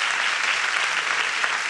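A studio audience at a stage comedy show bursts into loud, dense applause. It stays steady and unbroken throughout, with no voices over it.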